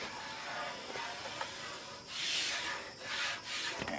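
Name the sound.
squeegee rubbing down a new arcade control panel overlay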